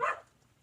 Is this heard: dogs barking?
yes